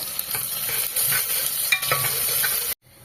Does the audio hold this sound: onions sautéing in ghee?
yes